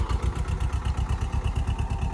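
A tractor engine runs close by with a steady, rapid chugging pulse, fairly loud and alone.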